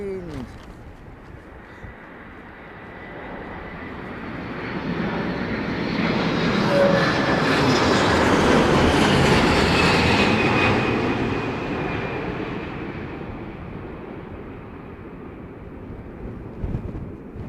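An Airbus A350 airliner landing at windy London Heathrow into a headwind swells from a distant rumble to a loud, roaring pass, then fades away, with wind buffeting the microphone.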